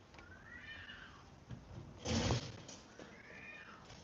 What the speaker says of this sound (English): like a cat like screaming in the background